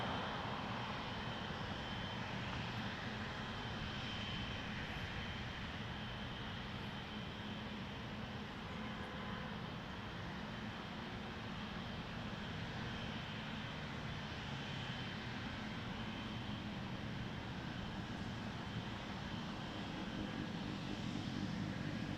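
An Air Canada airliner approaches runway 23 at Toronto Pearson Airport, a continuous broad engine roar and rush of air holding steady and moderately loud throughout, with no talk.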